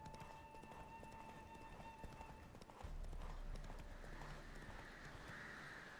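A horse gallops in The Witcher 3, the rhythmic clip-clop of hooves steady throughout, with a low rumble rising partway through and faint game sounds behind.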